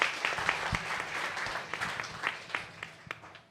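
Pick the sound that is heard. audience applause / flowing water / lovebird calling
audience applause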